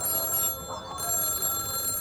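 A telephone rings in the indie horror game Till Checkout Do Us Part, a thin electronic tone steady over a murky background of game ambience, moderately loud for the whole moment.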